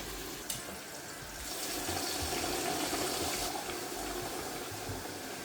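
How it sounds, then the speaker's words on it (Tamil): Boiling water poured into a pot for biryani rice, a faint, steady rushing splash that swells in the middle and settles into a continuous gurgle. "இப்போ நான் அரிசிக்கு இப்போ நான் தண்ணி எடுத்து ஊற்ற போகிறேன்"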